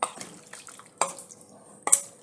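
A quarter cup of water poured over raw chicken in a pan while making chicken with broccoli: faint, brief splashing and trickling with a few soft clinks, quiet and close, with no talking.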